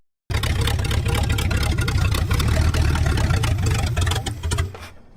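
Engine of a junkyard Chrysler idling roughly, a steady close rumble with uneven low pulsing that sags and fades near the end as if about to stall.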